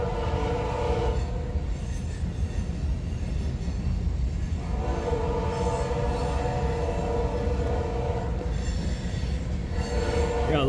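Eastbound freight manifest train rolling through Fremont, Nebraska, wheels squealing loudly in long sustained bursts over a steady rumble of passing cars, moderately near, no talk.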